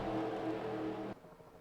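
Stock cars race at Daytona in the NR2003 racing simulator, a steady engine drone holding for about a second before cutting off abruptly.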